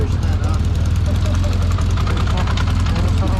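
Loud, close 1979 motorcycle engine running with a rapid, even pulsing chug, steady throughout with no pauses.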